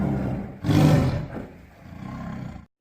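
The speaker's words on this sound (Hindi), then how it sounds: "तभी वहां पर जोर जोर से दहाड़ मारते हुए दूसरा शेर आ जाता है।" A lion roars loudly in an animated jungle folk tale, a deep, heavy roar swelling in the middle, then a lower, rumbling second growl before cutting off.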